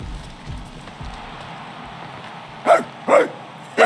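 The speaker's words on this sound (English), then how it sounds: "There you are, you old dog." A dog barks three times in a Guardians of the Galaxy video game scene, short loud barks spaced about half a second apart near the end, over a low rumbling ambient bed.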